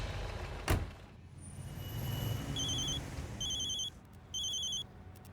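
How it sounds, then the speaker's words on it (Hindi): A phone rings in a busy city setting, with two bursts of electronic ringing over a muffled traffic rumble after a sharp thump near the start. "लो, आ गया फिर से डीएसपी सर का फोन।"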